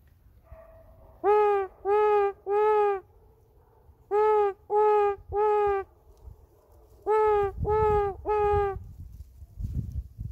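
A man imitates an owl's hooting 'who cooks for you' call with his voice, three close, clear series of about three hoots each, separated by short pauses, with no other talk.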